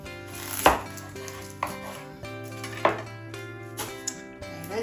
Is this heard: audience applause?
no